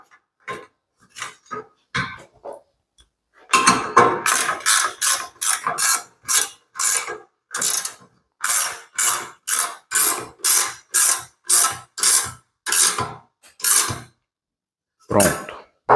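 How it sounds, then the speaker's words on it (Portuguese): Ratcheting metal clicks from tightening a bolt and nut onto gate pulleys, a few scattered clicks first, then a long run of loud, rapid, evenly spaced ratchet strokes close by, pausing before a final short burst. "Vou colocar parafuso e porca."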